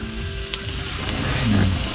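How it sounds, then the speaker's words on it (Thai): Pork sizzling on a Thai moo kratha grill pan at a lakeside campsite, a close, steady crackling hiss that swells slightly toward the end, with a few faint voices in the background. "หมูกระทะก็เริ่มลงเตาแล้ว"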